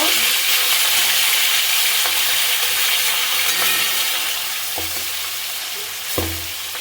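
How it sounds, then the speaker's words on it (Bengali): Steady, loud sizzling of fish frying in hot oil, with a few soft clicks of a utensil near the end. "দেখতেই পাচ্ছ মাছটা একদিকে ভাজা হয়ে গেছে। এবার আমি উল্টিয়ে দিব।"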